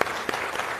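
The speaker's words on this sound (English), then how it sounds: "Let's give a round of applause to our panel." An audience at a live panel event applauds, a dense wash of many hands clapping together, steady and fairly loud for a brief moment.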